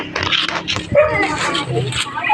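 A dog barks and yips in short bursts on a mountain outing near a parking lot, close by, mixed with people talking over it.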